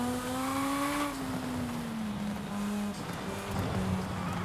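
A tiny car engine in Forza Horizon 5 holds a steady droning whine that dips slightly in pitch as the gear changes, loud and continuous with no talking over it.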